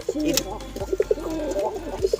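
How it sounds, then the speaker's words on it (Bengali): A Madrasi male pigeon coos in a loft, with repeated short, close, throaty coos in a rhythmic pattern and a few faint background knocks. "এটা একটা মেড্রাসি মেল"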